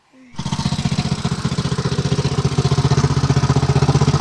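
A 1975 Ford 550 backhoe's engine fires and runs loud and close with a fast, even diesel chugging pulse that holds steady through to the end.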